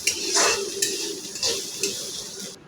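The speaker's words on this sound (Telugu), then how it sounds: "ఇదంతా కలిపి బాగా వేగేలాగా కలుపుకోవాలి." Carrot fry being stirred in a hot pan, a steady sizzle of frying with periodic scraping and clinks of the spoon against the pan, close up and without talk.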